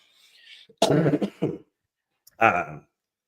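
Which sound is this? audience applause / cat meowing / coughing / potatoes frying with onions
coughing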